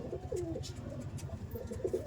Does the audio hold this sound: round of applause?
no